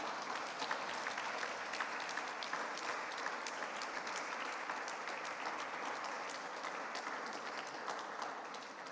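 At a seminar on the Italian and French languages, a room of attendees applauds the interpreters with sustained, even clapping, heard at moderate distance and fairly soft throughout.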